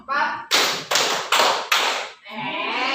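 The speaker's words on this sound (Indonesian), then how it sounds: "Tepuk 1, tepuk 2, tepuk 3, tepuk 4" Four sharp, evenly spaced bursts of group hand clapping ring out in a classroom, with a person talking just before and after the claps.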